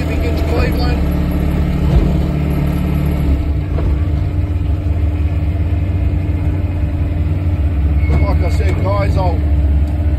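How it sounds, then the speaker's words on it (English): Supercharged 380 cubic inch Ford Cleveland 4V V8 with a 6/71 Roots blower, a deep steady engine drone heard from inside while driving, with someone talking over it. "It's only a 380 cubic inch Cleveland."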